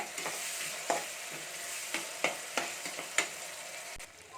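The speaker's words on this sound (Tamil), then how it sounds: "தக்காளி சேர்த்து நல்லா இதை மிக்ஸ் பண்ணிக்கலாம்." A spatula scrapes and knocks in a pan as chopped tomatoes are mixed into sizzling onions for a spicy mutton intestine gravy, with irregular clacks over a soft, steady fry.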